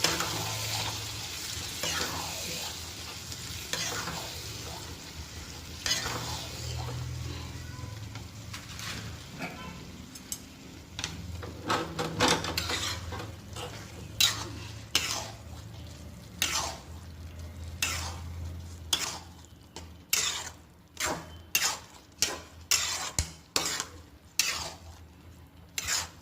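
Moong beans stirred in a frying pan: a soft sizzle and shuffling scrapes at first, then a run of sharp, evenly spaced spoon knocks against the pan, close and clear with no voices.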